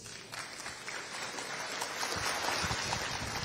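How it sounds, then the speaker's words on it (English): Applause from an audience at a Delta State security trust fund launch event, a steady broadband clatter of many hands that swells louder in the second half and carries on through the whole stretch. "I ask us to give him a round of applause"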